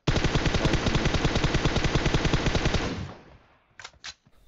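An M416 assault rifle in the mobile battle royale game fires a rapid sustained automatic spray of about three seconds, loud and close, then cuts off, followed by a few faint distant shots.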